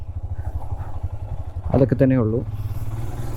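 Motorcycle on a rough off-road shortcut near Nilambur, a low steady engine drone with bumpy clatter throughout while someone talks over it, recorded close on a GoPro with a Media Mod and a Sony ECM LV1 mic.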